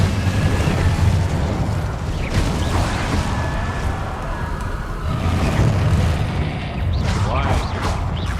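In the video game Hogwarts Legacy, an Incendio fire spell goes off in combat: loud, booming fiery blasts and crackling bursts that recur in waves throughout the clip.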